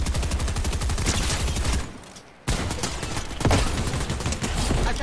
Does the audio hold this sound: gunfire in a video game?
yes